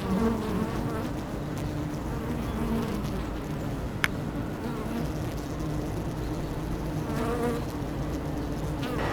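Honeybees swarm around a newly installed hive, their dense steady buzz close and continuous throughout, with a tiny sharp click partway through.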